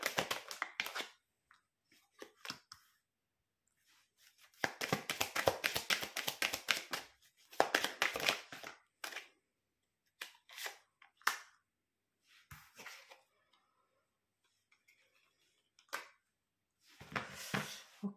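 Tarot cards are drawn and laid out on a table for a reading, heard as close, soft slaps, taps and shuffling rustles that come in irregular clusters separated by quiet gaps.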